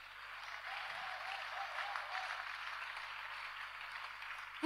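A church congregation claps its hands together in a sustained, even round of applause with a slightly distant, roomy sound, swelling at the very end.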